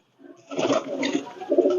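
Jaldar pigeons of a Kuwaiti import bloodline coo close by in a few short, throaty bursts after a brief quiet start.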